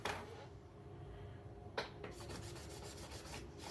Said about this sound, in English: we'll go ahead and shine up the tracks before we set them up